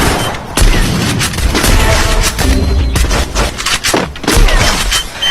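A grenade explodes in the Free Fire battle royale game. The game audio is loud, dense and continuous, with booms, shattering crashes and bursts of gunfire.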